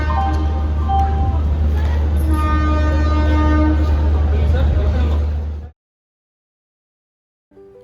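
A train rumbles loudly at Secunderabad railway station with a sustained drone and horn-like tones for several seconds, then cuts to silence before a brief voice.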